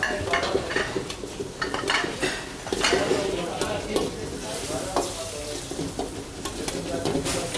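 Prawns sizzle loudly in a hot pan in a hotel kitchen while a metal utensil stirs and scrapes them, giving a steady crackle broken by repeated clinks and scrapes against the pan, with no one talking.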